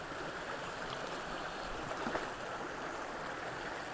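A small mountain stream pours over a little cascade into a pool, a steady, moderately distant rushing wash with no breaks and no voices.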